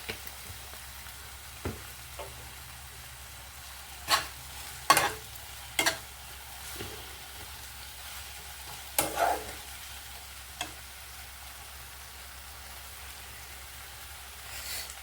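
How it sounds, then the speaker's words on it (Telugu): Coriander and curry leaves fry in oil as a faint, low hiss, broken by several sharp pops and spatters scattered across the stretch. "ఇంకా కొంచెం ఆయిల్ వేసుకుందామండి, ఎందుకంటే ఇంకా కొత్తిమీర కరివేపాకు కూడా వేగాలండి"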